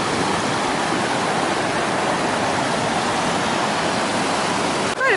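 A big river on the Pacific Crest Trail rushes loudly by a log crossing, a constant broadband roar of flowing water that stays close and steady, with a brief clatter near the end.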